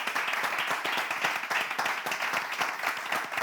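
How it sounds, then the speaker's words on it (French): Brisk, continuous clapping from a small group in a class session, dense and even, holding at a moderate level throughout. "On va l'applaudir."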